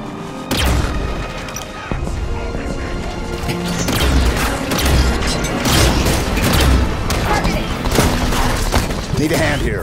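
Grenade blast and bursts of gunfire in Halo 5 combat, loud and dense with repeated booming impacts and rapid shots through most of the scene, with voices calling out over the battle.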